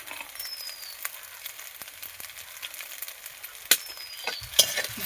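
Pasta being stirred with sauce and chaat masala in a pan, a soft continuous sizzle with light scraping strokes and a couple of sharper utensil knocks against the pan, close and fairly quiet.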